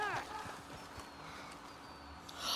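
In Red Dead Redemption 2, a donkey's hooves clip-clop on the ground in a short run of quick steps, fairly quiet, with a voice talking over them.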